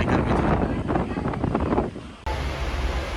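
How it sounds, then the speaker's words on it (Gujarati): Cool wind rushing past a moving train as it runs alongside the Padtari river on the Ahmedabad to Dwarka line, a loud steady broadband roar with a brief dropout partway through before the rushing resumes. "પડતરીની આ નદી, થોડો ઠંડો પવન આવી ગયો અને રાહત મળી ગરમીથી."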